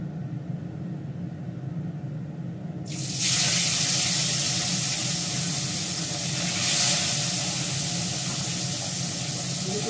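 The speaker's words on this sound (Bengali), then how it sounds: "মাছটা এবার ভেজে নিচ্ছি, বেশ বড় বড় মাছ।" Large fish frying in a pan, a loud, steady sizzle that bursts in partway through, swelling briefly once before settling into a continuous hissing crackle, close up with no talking.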